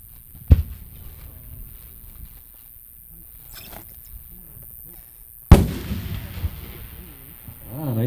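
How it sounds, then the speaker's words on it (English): Two sharp booms from an 8-inch aerial firework shell at a fireworks festival display, the first a short distant thump and the second a louder burst followed by crackling rumble, with faint crowd noise between. "Our next cue is an 8-inch."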